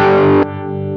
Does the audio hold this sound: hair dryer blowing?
no